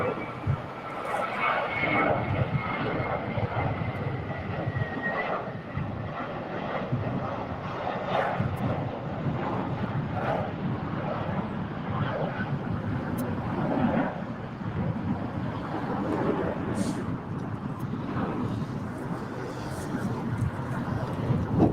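An American Airlines Airbus A321 airliner departs LAX, its jet engines a broad, sustained roar heard from a distance, steady throughout with light wind buffeting the microphone.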